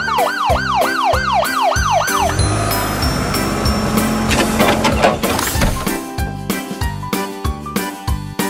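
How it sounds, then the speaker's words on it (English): An ambulance siren wails in a steady rising and falling cycle for a couple of seconds, then gives way to a loud, busy mix of music and traffic-like noise. "White ambulance."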